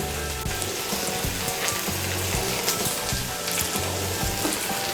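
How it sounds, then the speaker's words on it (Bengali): Ginger and garlic paste sizzles and fries in oil for chickpea ghugni, with steady crackling and intermittent stirring scrapes close up, continuous and fairly loud throughout with no talking. "আদা বাটা রসুন বাটাটাকে তেলের সঙ্গে ভালো করে মিশিয়ে নেব।"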